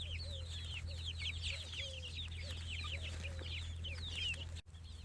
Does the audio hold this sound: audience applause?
no